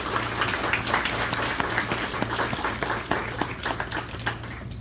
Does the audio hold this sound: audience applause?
yes